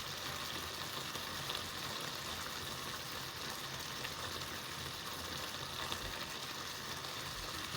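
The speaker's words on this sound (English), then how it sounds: "So we'll have to cover that and let it simmer." Cow feet and beef steak simmering in a covered pot, a constant dense hiss and bubbling with no breaks, close and fairly loud, with no one talking.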